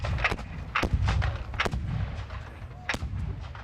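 Civil War artillery cannon fired with a friction primer into the powder bag, several sharp, loud booming blasts with rumbling echoes trailing off between them, heard outdoors at close range.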